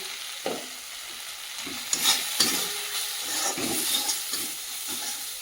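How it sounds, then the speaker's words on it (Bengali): Spiced vegetables with chilli powder, turmeric and salt sizzle in a pan, a constant hiss joined by several close scraping stirs of a spatula, no voices. "দিয়ে ভালো করে কষিয়ে নেব"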